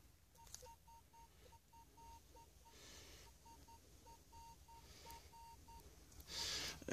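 Metal detector tone while searching for buried coins in a field: a steady train of short, regular electronic beeps repeats throughout, fairly faint over soft outdoor background noise, with a brief louder burst near the end.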